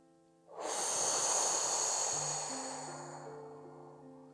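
One long, deep inhale is drawn in through the nose, airy and close, swelling quickly and then slowly tapering over a few seconds, with soft background music beneath and no talking.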